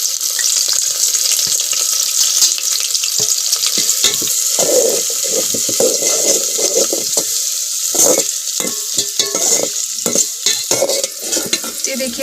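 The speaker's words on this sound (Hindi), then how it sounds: "ये तेजपत्ता है और प्याज, हम इसको सभी को एक साथ भून लेते हैं" Onions and bay leaf frying together in hot oil, a steady loud sizzle with intermittent stirring scrapes throughout.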